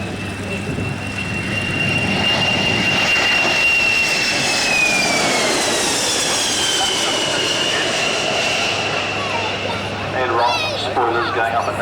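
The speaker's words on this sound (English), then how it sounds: "Terry, he's coming in to the left again. No smoke or afterburner, but it doesn't need it" A jet aircraft flies in from the left at an airshow without smoke or afterburner, a steady roar with a high whine that sweeps downward as it passes, under a commentator's talk.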